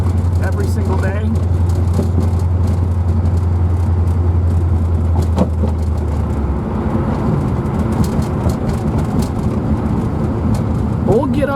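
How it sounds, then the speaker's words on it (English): A 1984 Corvette Z51 with a swapped 5.3 LS V8 idles with a steady deep drone, then gets a bit of throttle around the middle, its engine note rising and roughening; the car sounds loud and close throughout. "We'll get up here and we'll give her a little bit of gas."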